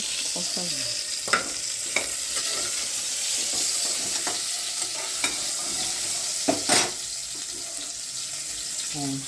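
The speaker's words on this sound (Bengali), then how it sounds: "পটলটা এরকম করে ভেজে নিতে হবে" Pointed gourd (potol) slices fry in a pan over strong heat, a steady broad sizzle running throughout with scattered clinks and scrapes of a spatula stirring, close and moderately loud, with no talk.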